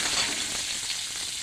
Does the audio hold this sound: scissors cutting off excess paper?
no